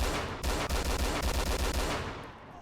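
Automatic gunfire sprays in DayZ Mod, a loud, rapid burst of roughly a dozen evenly spaced shots over about two seconds, then a fading tail of echo.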